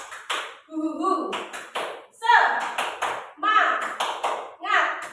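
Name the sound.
tepuk semangat rhythmic hand clapping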